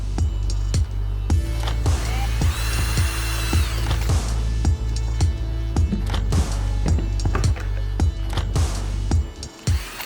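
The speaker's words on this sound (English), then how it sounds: "Now it's time to drill the holes into the suitcase." A power drill bores holes into a suitcase, with several short bursts of whirring and clicking, close and fairly loud, over a steady low mechanical hum and no talk.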